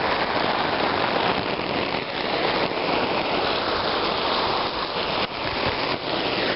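Simulated rain, sprayed water for a leak test, drums steadily on a tarp as a dense, continuous hiss and patter, loud and close, with slight shifts in intensity as the spray moves.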